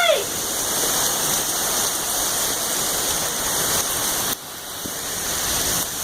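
Heavy thunderstorm rain pouring down near a house, a loud, unbroken roaring wash of water with no thunderclaps standing out and a brief dip in level near the end.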